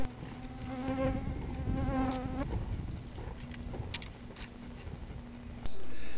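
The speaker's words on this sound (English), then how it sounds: "a lot of annoying buzzing gnats that you can see and hear if you listen carefully" Gnats buzz in a steady, wavering drone close to the microphone along a mountain trail on Mt Williamson, with the whine continuing throughout and no talk.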